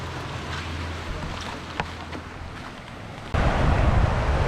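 Ocean waves wash near a sea cave on a rocky fishing shore, heard as a broad steady roar with wind buffeting the microphone and a boat engine humming low, the surge swelling louder toward the end.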